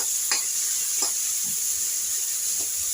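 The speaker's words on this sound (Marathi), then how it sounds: "आणि ह्याला छान असं परतून घ्यायचं आपल्याला तेलावरती." Chopped onion and tomato sauté in hot oil, a soft steady sizzle with a few brief scrapes of stirring at intervals.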